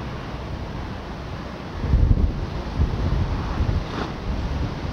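Wind blowing across a fishing spot while someone pole-fishes, a steady low rumble of gusts buffeting the microphone with a few stronger surges, with no talk.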